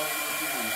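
A CNC spindle on an inverter runs at its full 18,000 RPM, giving a steady, fairly quiet high-pitched whine with an even airy hiss and no change in level.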